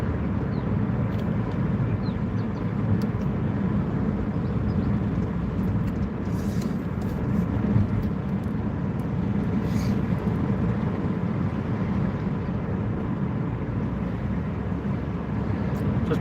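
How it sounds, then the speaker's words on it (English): A car drives through the city of Bet Shemesh, with a steady, loud, continuous low road and engine rumble from inside the vehicle and no talking. "Just driving and exploring this beautiful city of Bet Shemesh."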